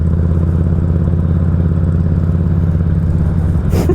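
A motorcycle riding along a road gives a close, steady engine drone that holds an even pitch, ending in a short burst of noise.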